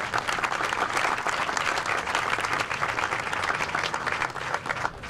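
Dense, sustained applause from a crowd at a community center event, loud and even throughout with no pauses.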